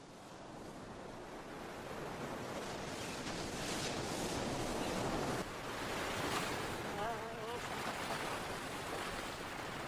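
Sea waves wash continuously against a coastline, building from a softer rush into a louder, steady surf roar with gusts of wind mixed in. A faint voice speaks briefly over the surf.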